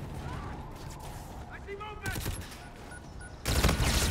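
Rapid gunfire from a weapon in the video game Infinite Warfare, short bursts of shots at a fairly quick rate, fairly faint and mixed with game sounds and a voice talking.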